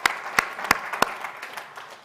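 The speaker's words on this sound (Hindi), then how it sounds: "एक बार जोरदार ताली बजाकर" Sparse applause at a Hindi poetry gathering honouring a visiting spiritual leader, a handful of loud separate claps spaced through the moment, fairly close, with no voices.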